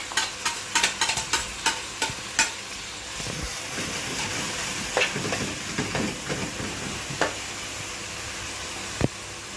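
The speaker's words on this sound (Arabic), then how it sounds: "وبعد كده الزيت سخن هننزل عليه بالبصلتين المفرومين" Two chopped onions hit hot oil in a rice pot, starting with a run of sharp sputtering pops and crackles that settle into a steady close sizzle with scattered spits, and no voices.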